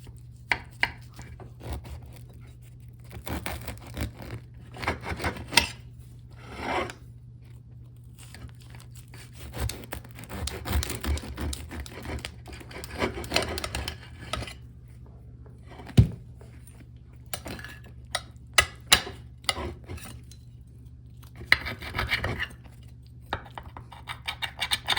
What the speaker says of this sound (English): Fingers crossed it has solidified enough that I can cut a piece without completely destroying it.